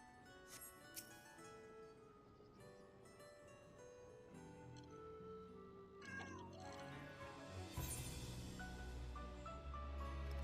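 A cat meowing repeatedly at moderate distance over a steady background hum and music-like tones, the calls rising and wavering, with noise building toward the end.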